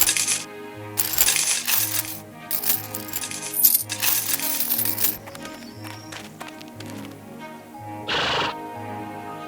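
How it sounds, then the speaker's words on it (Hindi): Gold coins drop and jingle in bright metallic clinks over an animated children's fairy-tale scene, mixed with horse whinnies, clip-clopping hooves and light background music. "चलो इसमें से कुछ सिक्के निकाल देते हैं, हमें इतने की जरूरत नहीं।"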